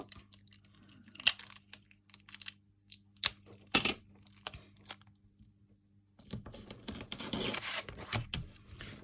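Close, sharp rips and crackles of tape pulled off a roll and torn, in scattered bursts, then a longer stretch of dense crinkling.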